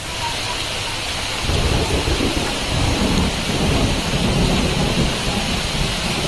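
Steady rain hisses throughout, and about a second and a half in a deep rumble of thunder rolls in and keeps grumbling low beneath the downpour.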